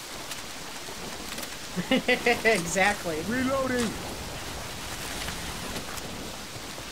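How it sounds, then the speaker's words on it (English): Steady hiss of rain in Left 4 Dead 2 pours throughout, with a voice speaking briefly over it in the middle. "The rain's loud."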